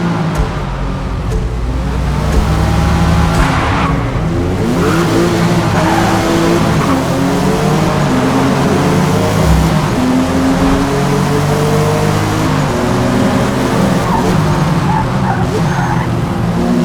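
Race cars in the Forza Motorsport racing game, engines droning and revving continuously with tyre squeal and skidding layered through, loud and steady for the whole stretch with no talking.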